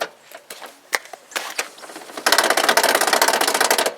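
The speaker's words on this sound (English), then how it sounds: "we've got an issue with the window regulator with this thing" The faulty window regulator in a 1986 Toyota Pickup door clicks and ratchets, with scattered sharp mechanical taps at first, then a dense run of rapid rhythmic clattering as the mechanism grinds along, close and fairly loud.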